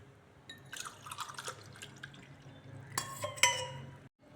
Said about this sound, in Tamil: இப்படி கலக்கிட்டுங்க